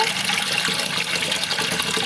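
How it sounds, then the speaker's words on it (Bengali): Steady rushing water poured into a pot, continuous, a full broadband splash with no pauses, close and fairly loud. "এখন চার পানি দিব"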